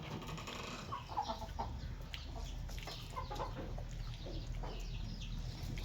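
Chickens clucking around a rural Thai home, several birds making soft, scattered clucks at a moderate distance over a steady low background hum, with no talking.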